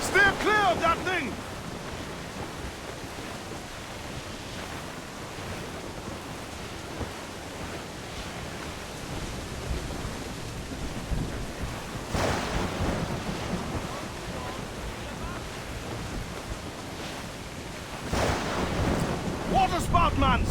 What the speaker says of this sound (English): Water spout, man! Stay away!